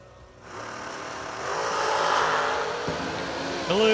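Drag racing cars roar down the racetrack side by side, the engine noise swelling loudly after a quiet start and holding into a sustained howl, with a brief higher whine near the end.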